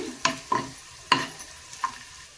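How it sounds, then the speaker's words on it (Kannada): Garlic and curry leaves fry in hot oil, a faint sizzle punctuated by a handful of sharp spoon clicks against the pan at uneven intervals. "ಕಾದ ಎಣ್ಣೆಗೆ ಬೆಳ್ಳುಳ್ಳಿ ಹಾಕ್ತಾ ಇದ್ದೀನಿ ಒಂದು ಮೂರು ನಾಲ್ಕು ಪೀಸನ್ನು ಈ ಥರ ಬೆಳ್ಳುಳ್ಳಿ ಹಾಕೊಳ್ಳಿ ನೋಡಿ ಎಣ್ಣೆಯಲ್ಲಿ ಬೆಳ್ಳುಳ್ಳಿ ಫ್ರೈ ಆದಮೇಲೆ ಒಂದು ಕಡ್ಡಿ ಕರಿಬೇವನ್ನ ಸೇರಿಸ್ತಾ ಇದ್ದೀನಿ"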